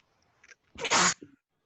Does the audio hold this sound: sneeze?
yes